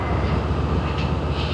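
A ZCU30 diesel locomotive hauling the 14 Down Awam Express at Lahore station, a steady low rumble and rolling clatter held at a constant level throughout, with no speech.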